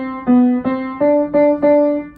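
A run of six sustained pitched notes, played an octave lower in modern tenor clef, each struck cleanly and held about a third of a second before the next, close and clear with no talking.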